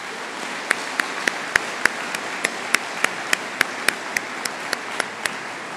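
Platform party at a 2019 University of Maine at Fort Kent commencement ceremony giving a round of applause, a thin, sparse run of individual claps from a small group, heard from a distance.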